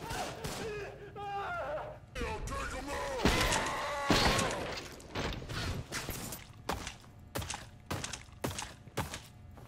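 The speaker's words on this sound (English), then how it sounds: "Why are they shooting at each other?" Enemies in a backrooms-style first-person shooter fire at each other, bursts of gunfire with metallic clanks and thuds, dense at first and then breaking into sharp separated shots.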